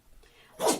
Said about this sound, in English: If you guys hear our dogs sneezing and snoring in